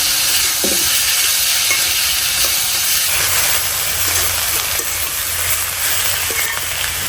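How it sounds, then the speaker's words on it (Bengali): Malabar spinach stir-frying with garlic and onion in a pan in a village kitchen, a steady loud sizzling hiss with scraping stirs throughout, no talking. "রসুন পেঁয়াজের সাথে ভালো করে মিশিয়ে নিব।"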